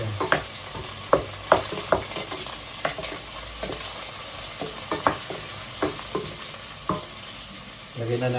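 Onions and ginger sizzle steadily in a frying pan, with a constant close hiss broken by repeated sharp clatters of stirring, loud and without talk.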